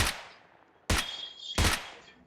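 Gunfire in the mobile battle royale game BGMI on the Erangel map: two loud, sharp shot bursts about a second apart, each ringing out with a short echo tail, after a fading earlier report.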